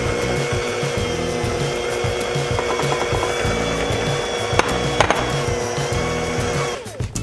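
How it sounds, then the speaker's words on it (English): Electric mixer beating powdered sugar into white chocolate buttercream, a steady loud motor whir with grinding, rhythmic churning throughout, a few clicks near the end before it winds down. "I'm just going to slowly add in my powdered sugar while mixing"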